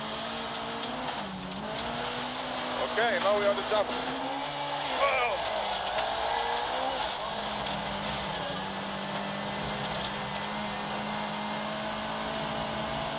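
A rally car driven flat out on a gravel stage, its engine holding a loud, steady high-revving drone with brief surges and faint tyre noise, while people talk inside the cabin over it.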